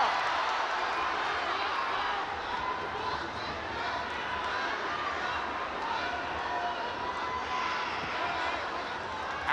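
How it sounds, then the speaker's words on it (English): A ONE Championship fight crowd roars and cheers steadily during a women's bout, a dense, sustained wall of noise with a commentator talking over it. "This crowd going bananas!"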